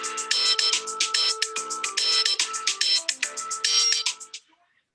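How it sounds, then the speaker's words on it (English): A cell phone ringtone plays a bright, rapid electronic melody, loud and close, looping for about four seconds before it stops abruptly with no talk over it. "So what you hear right now is Charles' cell phone going off"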